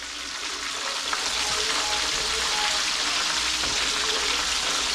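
Chicken wings deep-frying in hot oil give a dense, steady, loud sizzle that holds evenly throughout, close up and with no talking.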